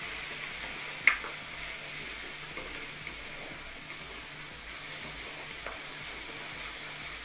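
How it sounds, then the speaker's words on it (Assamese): A tomato, onion, garlic and ginger paste frying in a pan for biryani, with a continuous even sizzle and hiss and one brief sharp clink near the start. Nobody speaks. "দুচামুচ বিলাহী দি এইখিনি এয়া ভাজি লৈছোঁ"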